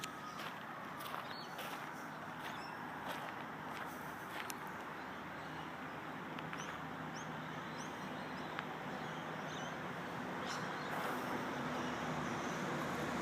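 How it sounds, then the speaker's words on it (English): Distant road traffic hums steadily, a continuous wash of passing vehicles with faint bird chirps above it. "You can hear more of the traffic going by."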